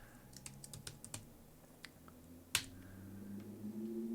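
A computer keyboard is typed on as a program is entered from a magazine listing: irregular, fairly quiet keystrokes in bursts, with one sharper, louder clack partway through.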